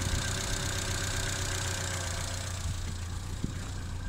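A car engine running on LPG idles steadily as its idle is adjusted, a constant close hum with a faint tick near the end and no talking.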